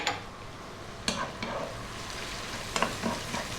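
Slit red chilies with their seeds fry over lively heat in a pan for soft shell crab in spicy sweet chili sauce, giving a steady close sizzle broken by a few sharp stirring scrapes.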